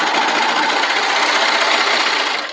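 Sewing machine stitching slowly over thick fabric layers with a serged seam, a steady, loud mechanical whir that runs without pause and eases off at the end.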